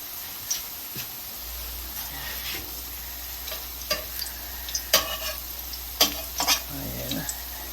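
Fritters fry in a pan with a constant soft sizzle, broken by several sharp scraping clicks as each one is turned with a utensil.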